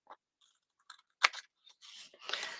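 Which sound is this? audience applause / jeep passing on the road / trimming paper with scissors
trimming paper with scissors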